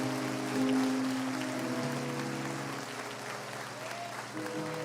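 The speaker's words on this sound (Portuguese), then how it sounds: "Se for para aplaudir Jesus, aplaude com força" A church congregation applauding together during a sermon, a steady wash of clapping at moderate distance that holds evenly for several seconds without a break.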